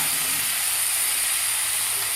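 Tomatoes tossed into a pan of coriander, garlic and coconut masala for a brinjal curry give a steady, even sizzle and hiss, close and continuous with no speech over it.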